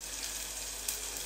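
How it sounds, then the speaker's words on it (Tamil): Chopped onions sauté in a hot pan for rasam, giving a steady, close, hissing sizzle with no talking. "அடுத்து வந்து வெங்காயத்தை வெட்டி வச்சிருக்க அதை போட்டு நல்லா வதக்கலாம்"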